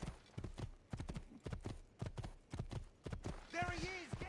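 Rhythmic horse hoofbeats at a gallop in the video game Assassin's Creed 2, evenly spaced heavy clops close up, ending with a horse whinny; a voice talks briefly over them.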